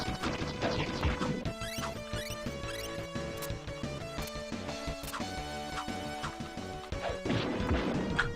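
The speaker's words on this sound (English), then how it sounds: "Throw the barrel into the other barrel, why not?" Crashing barrel impacts in a Power Rangers video game, several sharp smashes scattered over steady game music with a clear blow near the start and more hits toward the end.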